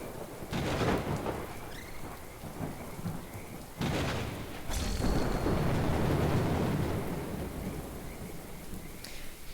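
Thunder and heavy rain in the video game Little Goody Two Shoes: a steady downpour with repeated loud rolling thunderclaps, one near the start, one around the middle and a longer rumble after it.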